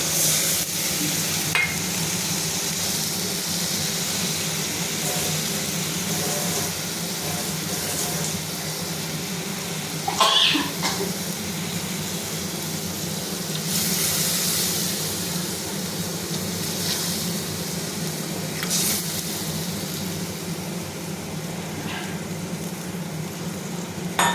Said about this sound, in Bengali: মশলা আমার হয়ে গেছে কষানো এবার আমি জল দিয়ে দেবো